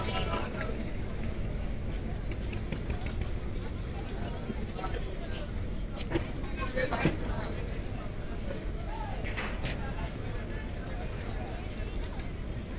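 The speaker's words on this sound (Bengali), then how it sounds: "বরিশাল ঘাট থেকে ছেড়ে যাচ্ছে পারাবাত 12 লঞ্চটি" Passenger launch Parabat 12 departing Barisal ghat, a steady engine and water rumble under constant crowd babble and voices at the river terminal, with a few brief louder knocks.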